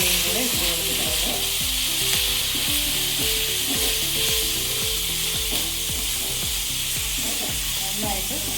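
Broccoli with ginger and garlic sizzles and fries in a pan, with rhythmic scraping and stirring strokes repeating steadily over the constant loud hiss of cooking.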